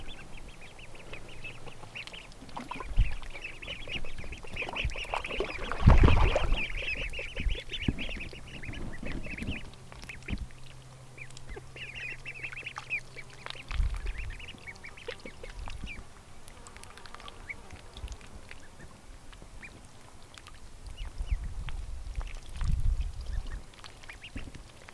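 Ducklings in a shallow backyard pond quack and paddle, their nasal calls coming in repeated bursts of varying nearness, with soft splashes and water movement throughout and no talking.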